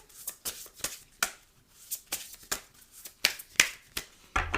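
Tarot cards being shuffled, crisp close slaps and flicks of the deck in an uneven rhythm with brief gaps, ending in a louder rustle, without talking.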